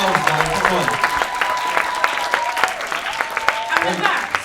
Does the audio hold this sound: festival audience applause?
yes